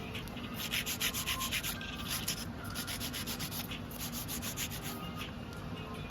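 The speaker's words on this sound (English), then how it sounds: "now I'm going to go back in with the hand file. This is an 80 grit hand file." An 80 grit hand file shaping acrylic nails, giving steady back-and-forth rasping strokes in a quick, even rhythm, close up and moderately loud, with no talking.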